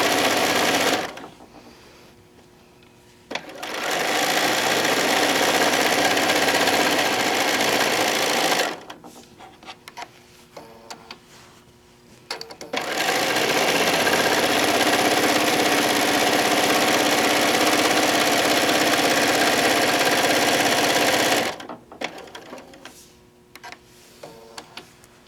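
A sewing machine stitches around the edge of a fabric panel placemat, running in long steady bursts of about eight seconds, stopping briefly between runs, loud and close with no talking.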